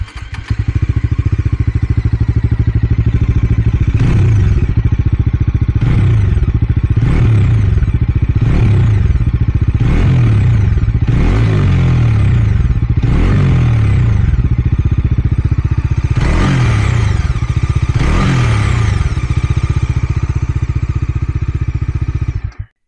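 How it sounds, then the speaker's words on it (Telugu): A Bajaj Dominar 400 motorcycle engine starts up close by and idles with a steady low thrum, broken by a run of about nine short throttle blips that rise and fall, with no talking. "చలో ఒకసారి అయితే బైక్ని అయితే ఆన్ చేద్దాము"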